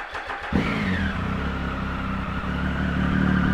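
A 2018 Triumph Tiger 1050 Sport three-cylinder motorcycle with a Beowulf exhaust, baffle still fitted, cranks and fires up after a short quiet pause, then settles into a loud, steady, throaty idle close by.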